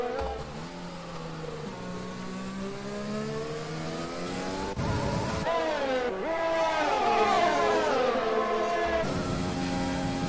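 Race cars at Silverstone in F1 2020 scream past with rising and falling engine pitch, several cars close together accelerating and shifting through gears, loud and continuous.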